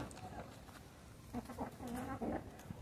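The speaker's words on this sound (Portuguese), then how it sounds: "Olha como essa galinha é linda" Hens in a small backyard chicken flock clucking at close range, a run of soft, uneven clucks building in the second half over a steady background hiss.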